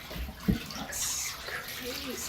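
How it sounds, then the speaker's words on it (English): Water running and splashing as dye is rinsed out of fabric in a sink or tub, a steady wash of flowing water with a brief louder splash, while a person speaks briefly over it. "Much dye is rinsing out of this."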